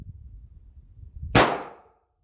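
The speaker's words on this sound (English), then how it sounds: "So here's a couple more with the 357 SIG with the chronograph in the sun." A single sharp 357 SIG pistol shot cracks loudly over a chronograph in the sun, its report decaying quickly after a low, muffled background rumble.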